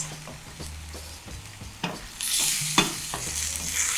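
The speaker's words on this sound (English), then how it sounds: "And again, give it a stir." Chicken and mushrooms stir-fried with garlic, ginger and chili, a spatula scraping and stirring through the pan in irregular strokes while a bright sizzle swells louder in the second half, close and without talk.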